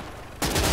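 StG assault rifle firing in the Gates of Hell World War II game, quiet at first, then a sudden loud burst of rapid automatic gunfire that continues to the end.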